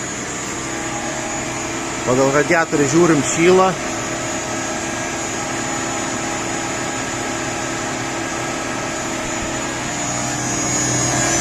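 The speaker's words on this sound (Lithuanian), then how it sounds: "Na va, smarkiai ūžia šilumos siurblys." A Renault Zoe heat pump (air-conditioning system under repair) hums loudly and steadily throughout, with someone speaking briefly over it early on.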